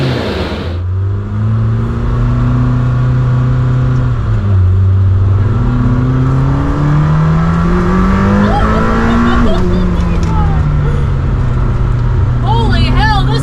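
A new Lamborghini accelerates hard, its engine revving loud and close with rising harmonic sweeps through gear changes, while excited voices talk and shout over it from inside the car.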